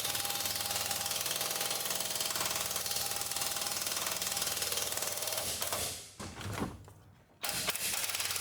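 Bolts on a RAM 1500 upper control arm being snugged down with a power tool, a steady loud mechanical whirring and rattling drone that cuts off briefly near the end before resuming.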